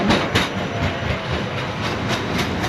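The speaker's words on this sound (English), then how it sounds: "So that's a tram, for example." Tram rolling past on rails in a Polish city, a loud, close rumble with rhythmic clickety-clack from the wheels over rail joints, steady throughout with no talk.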